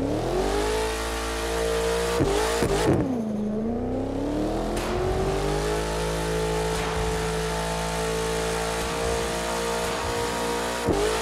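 A Maserati Alfieri sports car engine in The Crew 2 video game revs high and steady, dips briefly, then climbs back and holds a loud, sustained roar near its 7,500 rpm rev limit.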